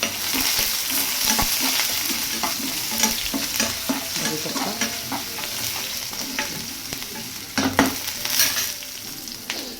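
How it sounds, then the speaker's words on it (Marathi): Mild green chilies sizzle and crackle in hot oil while being tempered for khara pongal, with steady frying hiss and repeated stirring scrapes throughout, close and fairly loud. "हे त्याला फोडणी देते मी"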